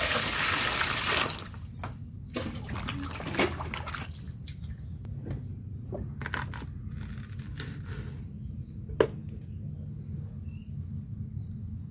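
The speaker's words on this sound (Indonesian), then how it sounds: "Kita rendam di air." Bamboo shoots are set to soak in water: a brief rush of poured water at first, then quiet sloshing with scattered drips and small splashes, close and soft.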